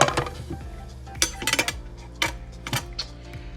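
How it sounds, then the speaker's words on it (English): A metal lid goes back onto a pot of beef stew, giving a series of close clanks and clinks of metal on metal, scattered irregularly over a few seconds. "I'm gonna put the lid back on"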